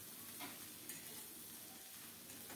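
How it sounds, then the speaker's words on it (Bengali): Sliced pointed gourd sizzles steadily in hot mustard oil in a home kitchen, a soft, continuous crackling hiss with light stirring and no talk. "শুটকি রান্নার জন্য প্রথমে পটলগুলো একটু ভেজে নেব।"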